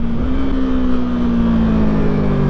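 A big truck rumbles past a cyclist riding on a cold road, a loud close engine drone with a steady low hum that slowly sinks in pitch as it goes by.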